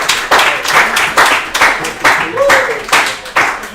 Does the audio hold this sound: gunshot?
no